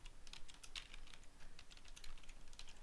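Computer keyboard typing while code is entered, a quick irregular run of light key clicks and taps, close and alone, steady through the whole stretch.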